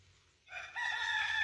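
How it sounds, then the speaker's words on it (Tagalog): A rooster in a backyard chicken coop crows once, a loud, clear call that rises and holds steady. Faint low rumble sits underneath, with no voices. "Coop ng chicken."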